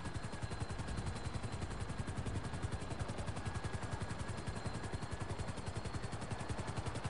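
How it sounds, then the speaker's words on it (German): Helicopter in the video game GTA V, a steady fast rotor chop that stays loud and unbroken throughout, dense and rhythmic with no talking over it. "Mein, mein Helikopter will irgendwie nicht."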